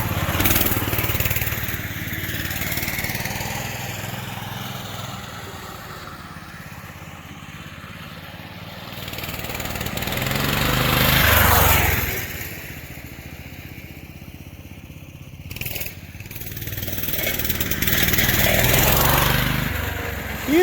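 Small engine of a Coleman 200 minibike running with the choke on, a buzzy rasp that rises and falls as it revs up and settles back, heard close and continuous for about twenty seconds with no speech.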